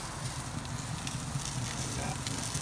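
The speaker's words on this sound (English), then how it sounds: "Threw on some Brussels sprouts with my home smoked bacon right by the fire there, so it's getting nice and roasted." Brussels sprouts and home smoked bacon roasting beside an open grill fire, a continuous dense crackle and hiss with soft low rumble, steady and fairly close throughout.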